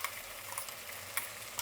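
Tomatoes fry in a pan with ground garlic, cumin and pepper, giving a steady close sizzle with faint ticks of stirring and no voices.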